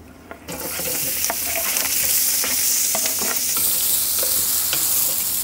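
Food frying in oil in a frying pan for a rustic Georgian lobio gives a loud, continuous sizzle that flares up the moment it hits the pan, with intermittent scraping and clinks from stirring.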